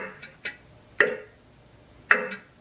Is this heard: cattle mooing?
no